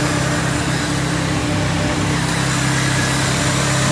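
A Peugeot 206 engine, just back from a wiring repair, runs close and loud with a steady throbbing idle that rises slightly in revs toward the end, with no speech over it.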